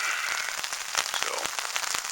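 Rain falls steadily on an outdoor surface, a dense broadband patter with scattered sharper drop hits running evenly throughout, fairly close and with no voices.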